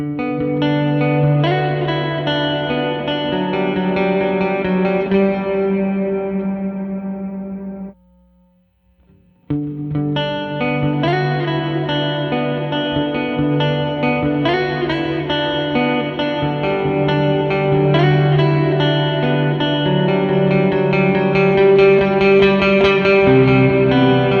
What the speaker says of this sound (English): I'm going to play through now to the second reverb mode, the small hall.